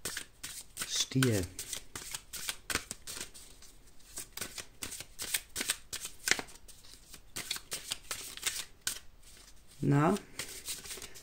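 Osho Zen tarot cards are shuffled by hand in repeated rapid riffling bursts, close and crisp, while someone talks softly throughout.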